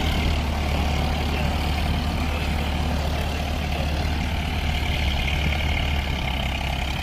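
Farmtrac 60 and John Deere tractor engines run together with a loud, constant diesel rumble and no pauses or changes in pace, close to the listener.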